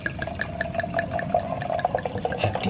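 Liquid pours steadily into a glass, close up, with a faint rising gurgle and small splashy bubbles throughout.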